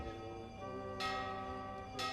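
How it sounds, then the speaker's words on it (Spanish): Cathedral church bells ring in the background during an Easter procession in Zamora, sustained tones with two fresh peals struck about a second apart over a steady ringing hum. "Oímos las campanas de la catedral de fondo"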